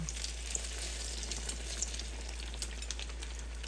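A battered chile relleno sizzles in a pan of hot oil, a soft continuous crackle with scattered small pops and a low steady hum beneath it.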